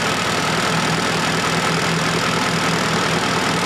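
Fiat Panda 4x4 engine running rough, juddering and jerking from fuel injection issues, a loud, close, continuous engine drone with a low uneven thrum throughout.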